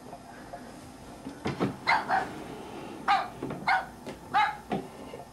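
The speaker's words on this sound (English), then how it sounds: "What are you barking at?" A dog barks indoors in a few short, sharp bursts, spaced irregularly and moderately close, with quiet room background between barks.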